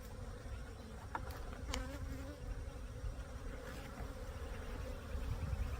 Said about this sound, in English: These bees are definitely waking up here.